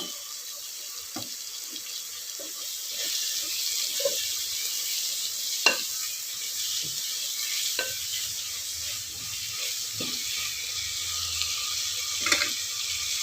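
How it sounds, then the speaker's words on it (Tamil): Spinach being sautéed with softened tomato in a pan, with a steady soft sizzle and occasional stirring clinks and scrapes throughout, fairly close and without talk. "இப்போ இந்த கீரையை நம்ம அதில் போடலாம். இது கொஞ்சம் நல்லா வதக்கிக்கோங்க."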